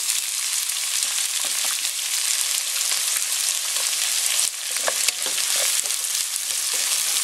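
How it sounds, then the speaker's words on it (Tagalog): Onions sizzling steadily in a pan after garlic has been browned for a pork and ribs pochero, a loud continuous hiss with occasional pops and light stirring clicks, no talking. "medyo lutuin natin yung sibuyas"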